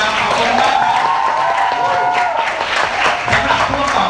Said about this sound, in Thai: ทุกคนปรบมือให้ท่านไดมอนด์ฟอสได้ครับ